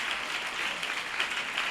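An audience at a church youth conference claps together in a steady, dense patter of many hands, moderately loud and continuous, with no voices above it.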